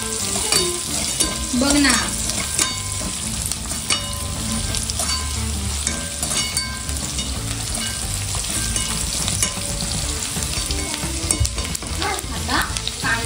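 Chopped garlic and ginger fry in a hot pan for chicken chilli, a loud, steady sizzle with scraping stirs throughout; someone speaks a few words briefly.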